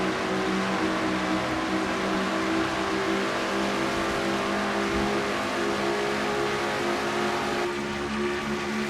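Race car engine heard from inside the cockpit in a NASCAR-style racing video game, a steady loud drone with layered harmonic tones that holds for the whole stretch, sustained and close with no talk over it.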